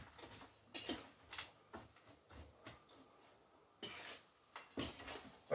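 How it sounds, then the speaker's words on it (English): Dry ingredients, including coconut flour and Swerve sweetener, being stirred in a bowl for a gluten-free low-carb dessert: soft scraping and clinking of a utensil against the bowl in scattered bursts, fairly quiet and close. "we're going to mix these up for our dry goods"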